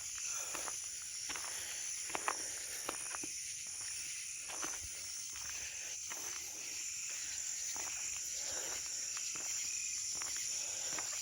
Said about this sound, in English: it's pretty creepy here at night. You hear nothing but bugs.